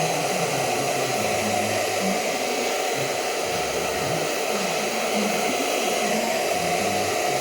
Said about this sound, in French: Donc un petit coup de séchoir, bon ça va faire un petit peu de bruit